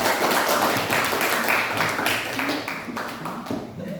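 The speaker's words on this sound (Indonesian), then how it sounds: "Mari kita beri aplaus untuk mereka" Audience applause for a student group, a dense patter of clapping from a room full of people lasting several seconds and slowly thinning out.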